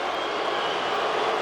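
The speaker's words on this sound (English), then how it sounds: "Crowd which was booing the Knicks earlier in the period, now trying to distract Bell." Steady, loud roar of an arena crowd at a Suns–Knicks NBA game in New York, heard as a continuous wash of noise aimed at rattling a free-throw shooter.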